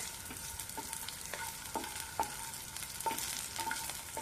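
Green tomato chutney ingredients fry steadily in a pan, a constant close sizzle broken by a handful of sharp spoon clicks against the metal as they are stirred.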